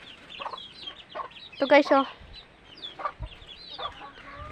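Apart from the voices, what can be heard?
chickens clucking in their coop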